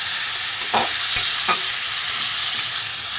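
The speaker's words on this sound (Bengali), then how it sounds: "ভালো করে কষানো হয়ে গেছে মশলা দিয়ে।" Spice masala of turmeric, cumin and coriander powder with grated ginger frying for a crab curry, a steady close sizzle broken by a few scraping stirs of the spoon.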